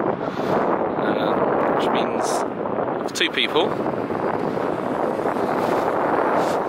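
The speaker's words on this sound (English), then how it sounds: "But I just realised it's windy," Heavy wind buffeting the microphone outdoors in Iceland beside a campervan, a constant loud rumble that swamps someone talking underneath it.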